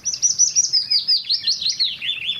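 Willow warbler singing alone, a bright high sweet warble of run-together notes that drifts downward, loud and clear and continuous throughout, with faint low background noise.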